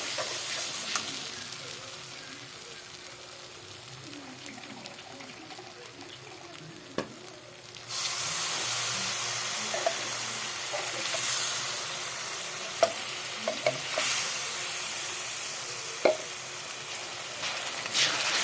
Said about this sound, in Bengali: এখানে একটু জল দিয়ে আরেকটু কষিয়ে নেব